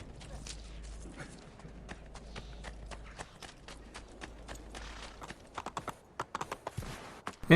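In the Assassin's Creed 2 video game, a horse's hooves clip-clop along, quiet and steady at first and then sharper and more spaced, as someone speaks over them.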